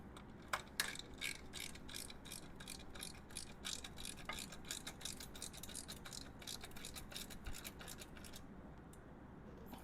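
Ratchet wrench snugging down a fork brace bolt on a Honda GL1500 Goldwing motorcycle, a steady run of rapid pawl clicks for most of the clip, close and moderately loud, ending in a brief quieter stretch.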